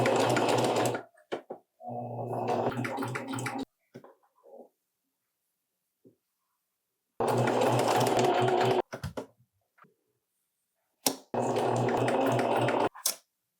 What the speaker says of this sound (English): Okay, let's sew it.